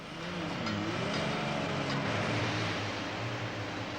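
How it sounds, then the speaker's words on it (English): A Holden six-cylinder engine warms up at steady revs, a continuous even drone of moderate loudness with slight pitch wavering and no voices. "this once familiar sound of a Holden 6 warming up is rapidly becoming a thing of the past"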